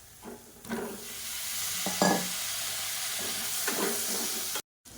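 Cauliflower sizzles in a hot pan with a steady hiss while a utensil stirs and scrapes a few times, close up.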